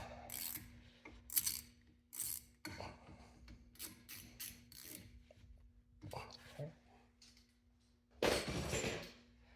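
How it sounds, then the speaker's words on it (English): A torque wrench tightens a brake caliper bolt to 30 foot-pounds on a Buick Envista during a brake pad job, giving scattered close metallic clicks and ratcheting bursts with a steady low hum underneath and one louder burst near the end. "we're going to use the torque wrench to torque it down to"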